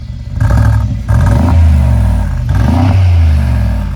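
A V8 engine revs up sharply several times, rising and falling in pitch with a rough, burbling exhaust note, loud and close.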